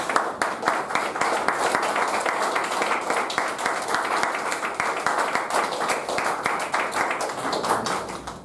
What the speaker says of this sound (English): I request members to stand and give him a great round of applause